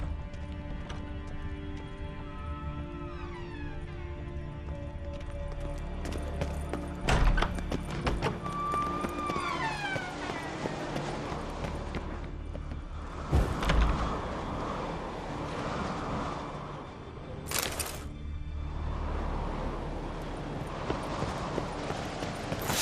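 Horse hooves clip-clopping in The Witcher 3 video game, a steady rhythmic beat running throughout over music, with occasional loud thuds and a whinny-like tone, at middle distance.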